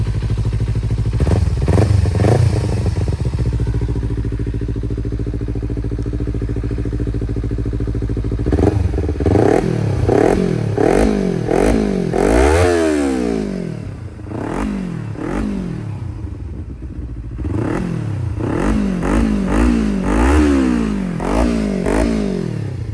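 A 2018 Kawasaki Z300 SE motorcycle with 32,000 km idles close by, then gives a series of sharp throttle blips. Its engine pitch rises and falls in repeated revs with no talking.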